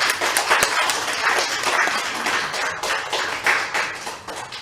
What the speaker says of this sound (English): So I'm clapping for all of you.